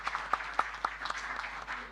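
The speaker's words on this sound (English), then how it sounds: "Ladies and gentlemen, a round of applause for President Ta." An opening-ceremony audience at an annual general meeting applauds President Ta, a short, faint spatter of claps with a few distinct sharp hits standing out against a soft, distant crowd wash.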